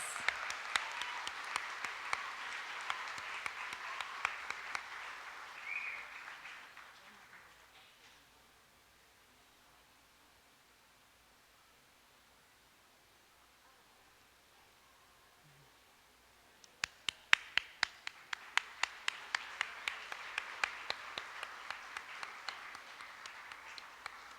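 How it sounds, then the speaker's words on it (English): Audience applause for young Little Miss candidates at the 2019 Choctaw Nation Princess Pageant: a steady wash of clapping fades out after about six seconds, then after a quiet gap a fresh round of applause starts up and builds. "Let's give a round of applause to all of our Little Miss candidates"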